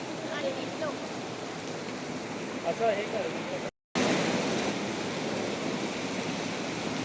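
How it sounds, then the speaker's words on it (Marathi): Heavy rain pouring down steadily in Lonavala during the monsoon, a dense broadband wash that continues without a break apart from one short gap. Faint voices come through underneath. "खूपच पाऊस आहे"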